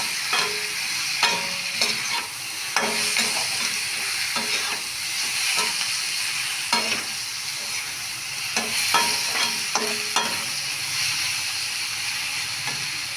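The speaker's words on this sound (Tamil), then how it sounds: "தனியாத்தூள், மிளகாத்தூள், மஞ்சத்தூள் போட்டு நல்லா வதக்கணும்." Coriander, chili and turmeric powders sauté in a pan for chapati masala, a steady close sizzle and hiss broken by repeated scraping strokes of a stirring spoon.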